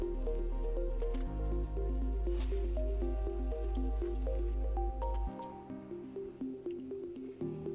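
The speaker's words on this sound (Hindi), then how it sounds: "अब हम इसमें गाजर डालेंगे" Grated carrots tipped into boiled milk in a pan for gajar ka halwa, soft wet squishing and dripping plops under steady background music, faint and close, no talk.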